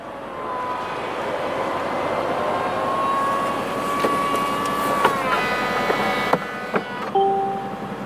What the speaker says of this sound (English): With my foot on the brake and pulling this lever down, the roof will come right up.